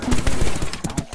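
Rapid loud gunfire in a video game, a burst of sharp cracking shots close together with a brief pause near the end, heard alone with no talk.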